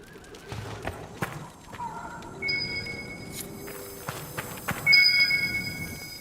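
Horse hooves clip-clop on the ground in the fantasy video game Dragon Age: Inquisition, a purebred chestnut Ferelden Forder in the Hinterlands, with scattered steps, a whinny and game tones over a light ambient bed.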